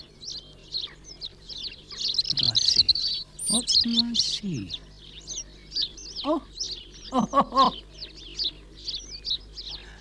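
Small British garden birds such as sparrows and a coal tit chirp and tweet in quick, high bursts nearby, with a person speaking intermittently over them.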